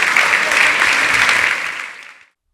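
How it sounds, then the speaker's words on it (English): An audience applauds a real estate panel with a dense wash of steady clapping that holds, then tapers and fades to silence. "let's give a round of applause for"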